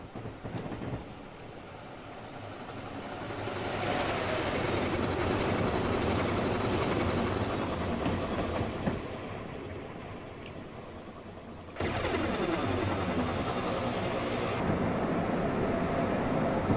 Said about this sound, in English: Seeing the train come by our perspective.